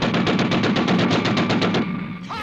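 Rapid machine-gun style gunfire effect from a model in a TV puppet show, a fast rhythmic burst of shots lasting about two seconds, loud and close, ending abruptly with no talk over it.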